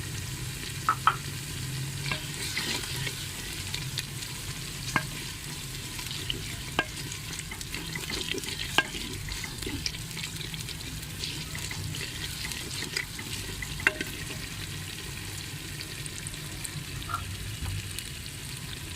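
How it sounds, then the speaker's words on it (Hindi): Steady sizzling of crushed garlic and ginger frying in oil, with occasional scrapes and clicks of a spoon stirring through it, continuous and close. "अब हम इसमें डालेंगे 1 चम्मच लहसुन और अदरक कुटी हुई, डाल देंगे। इसको हिलाएंगे।"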